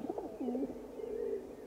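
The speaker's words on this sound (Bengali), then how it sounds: "দূরে কোথায় একটা পায়রা ডেকে উঠল" A pigeon coos a few soft, throaty notes followed by a longer drawn coo, gentle and fairly quiet in a calm late-afternoon setting, with no talking over it.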